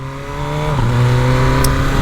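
An MV Agusta Brutale 1000 RR motorcycle engine revs loudly and close, its pitch climbing then dipping and rising again in a short throttle blip, with no voices.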